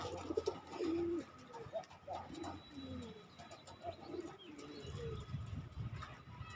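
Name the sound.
pigeons cooing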